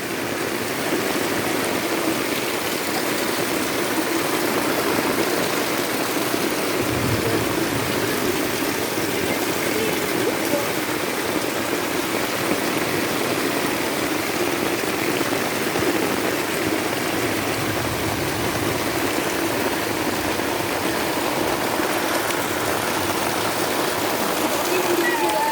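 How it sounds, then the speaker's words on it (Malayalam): Heavy monsoon rain falls during flooding, a steady dense roar of rushing water that stays loud and unbroken throughout. "നല്ല മഴയാണ്, നല്ല വെള്ളപ്പൊക്കം."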